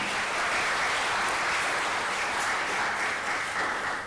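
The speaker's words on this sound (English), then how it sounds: "So a big round of applause for them." Steady, dense audience applause at an Antarctica Day ceremony with a commemorative postage stamp release, loud and sustained without pause, with no voices over it.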